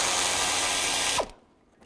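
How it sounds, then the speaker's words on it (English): A ratchet wrench with a 10mm socket clicks rapidly while backing out a transmission cooler hold-down bolt on a 2006-2011 Cadillac DTS, a close steady clatter that stops abruptly. "We're going to remove this hold down bolt for the transmission cooler. Use a 10mm socket."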